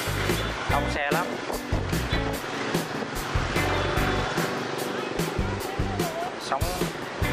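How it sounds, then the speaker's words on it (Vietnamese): Strong river current rushing below Long Biên Bridge, a steady broadband wash of turbulent water close by, with passing traffic rumble mixed in and no voices. "nước chảy gắt lắm, tương đương với cái sông Cổ Chiên ở dưới quê mình vậy đó"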